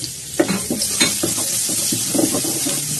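Minced garlic and ginger sizzling and crackling in oil in a pan as they are stirred, with scraping clicks at an irregular rhythm, close up.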